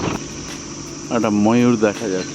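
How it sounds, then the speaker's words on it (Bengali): Crickets chirp in a forest at dusk along a rough jungle track, a steady high-pitched trill continuing in the background while someone talks over it. "ঝিঝি পোকার ডাক শোনা যাচ্ছে"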